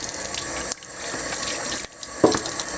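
Neck bones rinsed under running kitchen tap water: a steady close splashing flow into a sink, with a couple of brief clunks and shifts, no talk.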